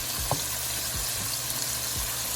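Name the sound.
kebabs cooking in a pan for handi kebab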